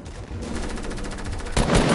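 Compact SMG gunfire in Fortnite: a steady, close burst of rapid automatic shots rattles on for over a second, then a louder, denser volley hits at the end, with no talking.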